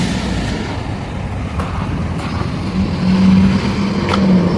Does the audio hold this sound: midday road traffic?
yes